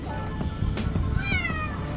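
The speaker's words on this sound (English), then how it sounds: "the cutest cat was sitting at my front door" A cat meows at a front door outside, a single clear, close cry with a rising and falling pitch over faint low background rumble.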